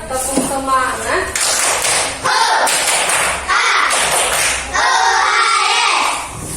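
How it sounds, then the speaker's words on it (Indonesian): A class performs a rhythmic spirit clap, with loud, close clusters of hand claps and thumps arriving in evenly spaced blocks, while voices chant along in time between and over the beats. "Kasih dulu tepuk semangat"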